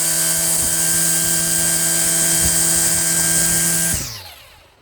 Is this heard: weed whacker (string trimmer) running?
yes